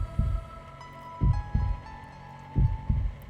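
A heartbeat sound effect from the video game Dies Irae Amantes Amentes thumps in three low, heavy double beats, evenly spaced and close, over a faint steady hum.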